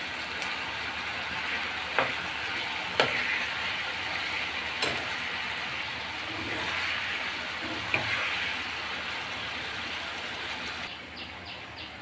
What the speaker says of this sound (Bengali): মিডিয়াম আছে 5 মিনিট ভেজে নেব